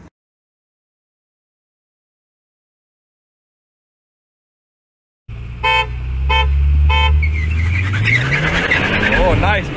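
A tuned BMW 340i, around 330 horsepower, lines up for a street race in Mexico: after several seconds of silence, three short horn toots sound, followed by a loud, steady engine roar building as the car pulls away.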